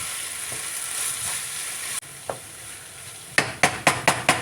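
Sofrito stirred in a hot pan for Puerto Rican green plantain empanadillas, a steady sizzle under scraping strokes, then a run of five sharp, close spoon knocks against the pan near the end.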